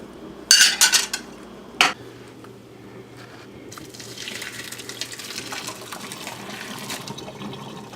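Boiled zucchini drained from a pot: a couple of sharp metallic clanks, then water pouring and splashing out into a sink for several seconds, close and without talk.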